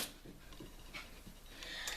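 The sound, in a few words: puppy panting in the background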